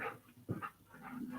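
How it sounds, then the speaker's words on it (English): A single short, faint dog bark or yelp rises briefly over soft background noise. "And he's barking."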